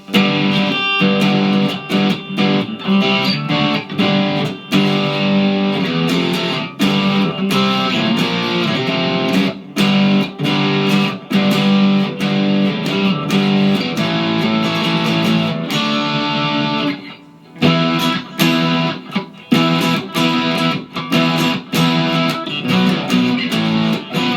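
A 2021 Kramer Baretta Special electric guitar plays continuously through amp distortion with a gritty, saturated tone, strumming chords and riffs with a brief pause near the end.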